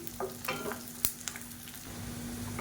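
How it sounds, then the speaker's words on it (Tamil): Pirandai (adamant creeper) and garlic crackle and sizzle in oil while being sautéed for a thokku, a soft steady hiss with a few sharp spatula scrapes and taps, fairly quiet and without speech. "இப்போ பரண்டையும் பூண்டு நல்லா வதங்கிருச்சு"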